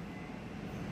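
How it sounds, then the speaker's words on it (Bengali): A Green Line metro train pulls in and stands at Sealdah station, heard as a faint, steady low rumble with platform hum and no distinct peaks. "তো এই যে ট্রেনটা এসে দাঁড়ালো"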